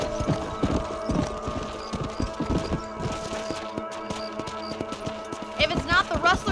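Horse hooves clop rapidly and unevenly on the ground during riding in the video game Red Dead Redemption. A busy rhythmic patter runs throughout, with brief higher chirps near the end.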